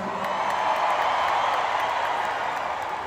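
A sold-out arena crowd at a concert in Toronto's Scotiabank Arena roars and applauds, a broad, steady wash of cheering and clapping that holds at a constant level.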